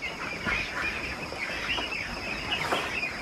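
Young ducklings on a duck farm, a continuous chorus of soft peeping and quacking from many birds, close and steady, with no talking.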